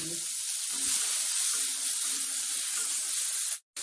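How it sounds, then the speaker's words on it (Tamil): Onion, garlic and tomato fry in a pan with a steady, bright sizzle that holds close and even throughout, cut off by a brief silence near the end. "இனி இதுக்கு கொஞ்சம் வறுபடுறதுக்கு இந்த வெங்காயம், பூண்டு, தக்காளி"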